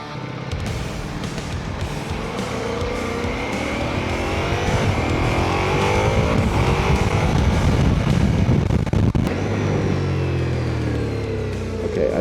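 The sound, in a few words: Ducati Multistrada Pikes Peak motorcycle engine revving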